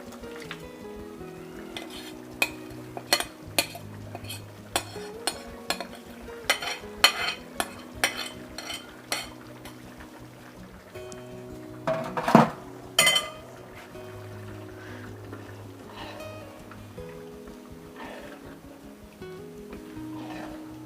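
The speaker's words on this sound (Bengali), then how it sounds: "খিচুড়িটায় বলক উঠে গেছে এখন আমি এর মধ্যে দিয়ে দিচ্ছি মাংসগুলো" Chicken pieces tipped into a pot of bubbling chicken bhuna khichuri and stirred, with repeated spoon scrapes and clanks against the pot over a low simmer, and a louder clatter near the middle.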